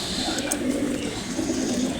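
A pet pigeon coos softly among a flock in a domestic setting, low murmuring calls steady over a faint noisy background, with no clear talk.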